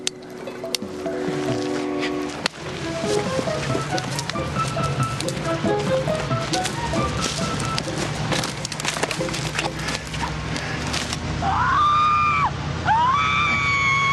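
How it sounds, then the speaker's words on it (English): Screams recorded and played back through speakers in an old mystery drama: shrill rising-and-falling wails near the end, above a steady background of creaks, wooden knocks and splintering noises. "Listen to those screams. They're the same ones we heard before."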